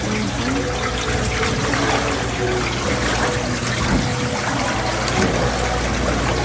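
Water runs and trickles steadily at an outdoor gem-sifting flume as material is sifted for gems, a continuous close wash of flowing water with faint sloshing and no clear speech.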